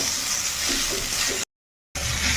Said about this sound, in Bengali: এখন পেঁয়াজটা দিয়ে আর মিনিট খানেক একটু নাড়াচাড়া করে নেব